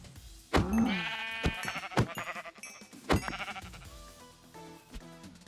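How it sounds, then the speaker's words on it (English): Sheep bleating in Minecraft Project Ozone 3, several short wavering bleats close by, interspersed with clicks and game sounds, with no speech. "Why is there a sheep over here?"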